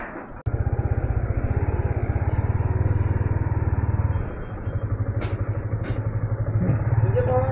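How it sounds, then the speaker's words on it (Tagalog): A motorcycle engine runs close by on a ride in the Tanay highlands of Rizal, giving a loud, steady pulsing throb that dips briefly and then picks up again. "Ito yung motor natin."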